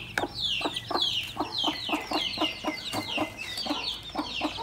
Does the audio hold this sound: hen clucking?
yes